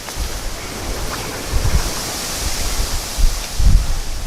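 Steady wind blows hard across an open fishing spot, a continuous broadband rush with gusts swelling and fading, loud and alone.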